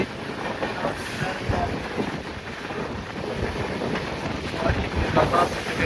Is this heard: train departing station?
yes